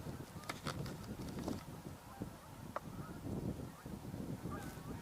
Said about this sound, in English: and we're seeing some ducks.